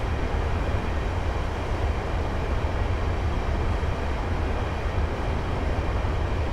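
Class 15 train coasting at 50 mph between Larbert and Glasgow Queen Street in Train Simulator 2015, a steady low rolling rumble with a continuous hiss, alone and unbroken.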